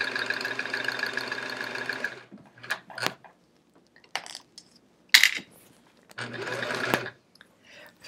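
A home sewing machine stitches quilt pieces for a chevron quilt. It runs in a steady mechanical whir for about two seconds, then gives short stop-start bursts with clicks and pauses, and a final stretch of stitching.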